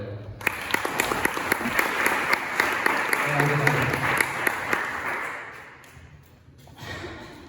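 Applause from a small village audience at a summer gathering in Nalda, a dense steady clapping that rises early, holds for several seconds with a few sharp distinct claps, then tapers off near the end.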